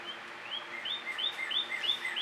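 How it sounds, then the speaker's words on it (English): A bird calls outdoors in a weedy garden, repeating short rising chirps at a steady rhythm, clear and fairly near over a quiet background. "And the deeper bird is back."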